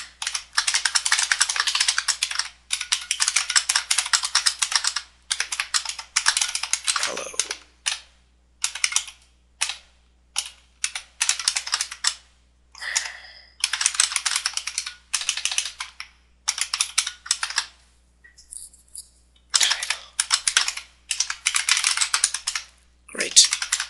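Steady clatter of typing on a computer keyboard while writing a program, fast bursts of keystrokes separated by short pauses, close and clear with no talking.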